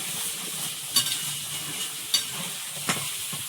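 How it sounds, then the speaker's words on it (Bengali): Spice masala fries and sizzles in oil in a pan for a cauliflower curry, a steady hiss broken by a few sharp scrapes and knocks of stirring. "এই মশলাটা ভালো করে কষিয়ে নিচ্ছি, সাইড দিয়ে তেল ছেড়েছে।"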